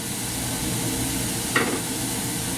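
Ground meat topped with seasoning for keto chili is broken up and stirred in a frying pan. A steady sizzle runs throughout, with one brief scrape of the utensil partway through and no talking.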